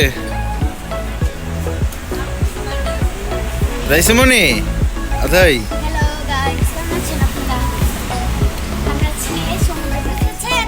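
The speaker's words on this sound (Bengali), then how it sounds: "আমরা আজকে সমুদ্র পাড়ে এসেছি" Steady surf of sea waves washing onto an Italian seashore fills the background, continuous and broad, while a person talks over it throughout.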